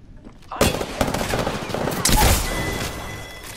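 Apex Legends gunfire: after a quiet start, rapid automatic bursts crack out loud and close, with a second heavy volley and impacts midway. A voice talks over the shooting.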